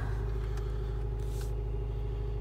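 A 2013 Nissan Cube SL idles just after start-up, the engine rumbling low and steady close to the microphone, with no talking.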